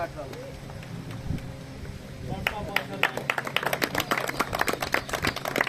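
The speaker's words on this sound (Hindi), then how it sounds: "जोरदार तालियां" Crowd at a pigeon-flying tournament prize-giving claps loudly outdoors, scattered claps building into steady, dense applause, with a voice talking over it throughout.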